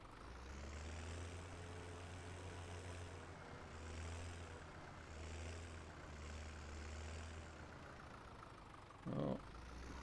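Tractor engine idling steadily in Farming Simulator 17, a continuous low rumble with slight periodic swells in level, followed by a brief louder bump near the end.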